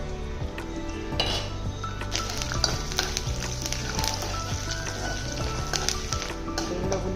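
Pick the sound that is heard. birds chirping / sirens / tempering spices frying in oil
tempering spices frying in oil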